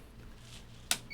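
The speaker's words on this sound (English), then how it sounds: "Beep." A single short electronic beep from a DECtalk DTC01 speech synthesizer terminal, sharp and close, standing out briefly against a faint background hum.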